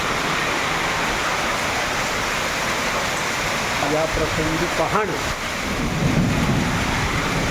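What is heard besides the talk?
thunderstorm with heavy rain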